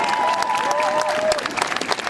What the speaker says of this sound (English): can we have a clap for anyone who came out the other day to the vigil?